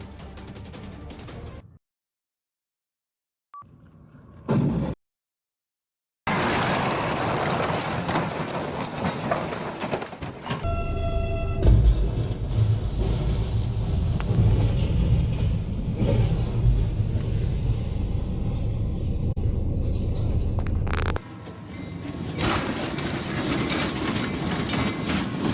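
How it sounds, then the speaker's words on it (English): A train strikes a dump truck stuck on the tracks in Tomball, Texas, heard as a heavy rolling rumble and roar with a sharp burst of impact noise, cut between brief silent gaps before a long loud grinding stretch. "A dump truck swerves to avoid a car, gets stuck on the tracks. And seconds later, a train ends the story."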